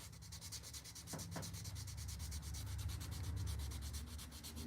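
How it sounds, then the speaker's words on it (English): Steady hand sanding rasps back and forth on a wooden tobacco pipe, a soft, close, continuous scratching stroke repeating evenly in a quiet room. "Just doing some hand sanding tonight."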